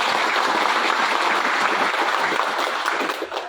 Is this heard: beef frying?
no